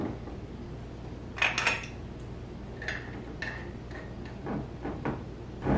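Two glass vinegar bottles being capped by hand, giving a few scattered clinks and light clacks of lids against glass, close and fairly quiet, with pauses between the small knocks.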